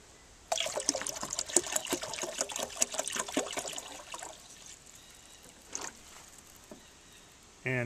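A short burst of water pouring from a gallon into a tank and trickling for a few seconds, then tapering off into quiet with a couple of faint drips and splashes.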